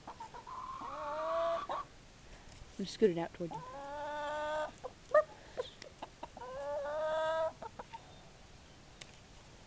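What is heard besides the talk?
chickens clucking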